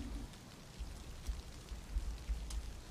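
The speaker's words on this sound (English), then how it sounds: "Now it's raining" Steady rain falling outdoors near a bar, a constant soft hiss with faint scattered drop patters and low rumbling underneath, moderately quiet and without talk.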